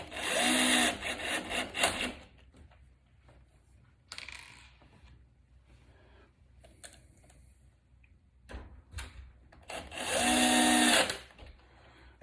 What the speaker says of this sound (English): Change my drill over to drive. And let's put this striker pin in.